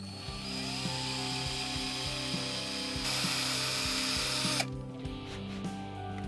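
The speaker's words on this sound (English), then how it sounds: "We can then drill out the holes for the mounting screws." A power drill bores mounting-screw holes into a wooden Telecaster guitar headstock, its steady close whine running for several seconds with a brief surge near the end before stopping abruptly.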